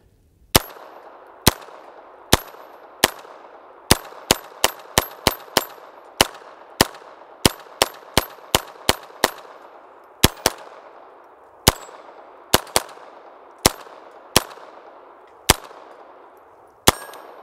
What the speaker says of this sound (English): that was 25 rounds of 22 long rifle